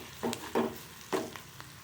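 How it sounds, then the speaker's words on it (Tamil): Grated coconut and onions are sautéed in a pan for a masala dumpling dish, with three or four brief scraping stirs over a low, soft sizzle, close by and without talk. "இதையும் கொஞ்சம் நல்லா வதக்கிக்கலாம்."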